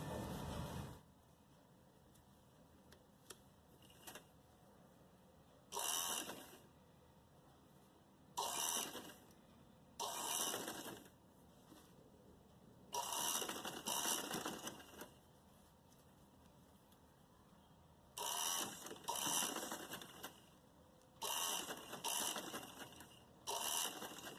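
Sewing machine stitching lace onto a kurti neckline in a V shape, running in several separate bursts of a few seconds each with quiet pauses between, close and fairly loud.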